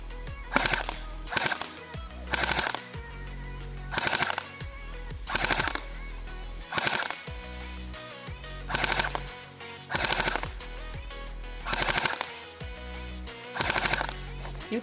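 A StrikeArms KEDR-B airsoft submachine gun firing plastic BBs in about a dozen short, sharp automatic bursts, evenly spaced and close by, with brief quiet gaps between the rattling volleys.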